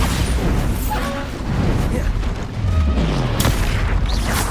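Bombarda spells explode in the video game Hogwarts Legacy as loud, deep booming blasts with rumbling low-end impacts amid dense game noise, while a player shouts over it.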